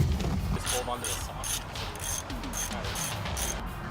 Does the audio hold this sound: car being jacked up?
yes